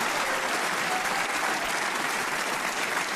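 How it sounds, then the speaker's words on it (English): Snooker audience gives a warm, sustained round of applause after a 136 break, dense and even clapping from a large crowd filling the whole moment without letting up. "Thoroughly deserving this warm round of applause."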